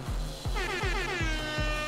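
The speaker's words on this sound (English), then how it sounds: "Air horn, and then..." An air horn effect from the video game OMORI gives a series of repeated loud blasts that bend in pitch, filling the short moment with a buzzing, brassy tone and no speech.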